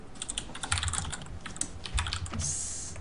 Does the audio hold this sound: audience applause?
no